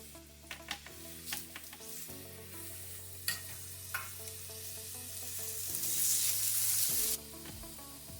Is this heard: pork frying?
yes